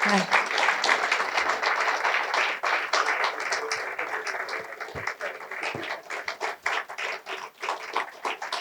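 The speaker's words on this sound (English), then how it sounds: "We can hear some applause for Mr." Audience applause at a morning talk event, steady clapping from many hands filling the room, fairly close and sustained, thinning toward the end.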